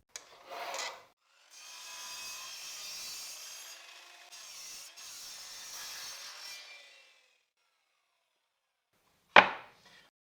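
A power saw cuts used wood to length in a woodworking shop, with a steady whining cut lasting several seconds, a short burst before it and a sharp knock near the end; the sound is moderate and close, with no talking.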